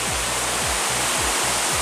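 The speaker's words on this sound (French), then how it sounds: "il y a toutes les cascades qui montent jusqu'à Roquesavière" Waterfalls along a mountain trail climbing toward Roquesavière on the Chemin des Druides: a loud, dense, unbroken rush of falling water, close by, with faint low thumps underneath and no talking.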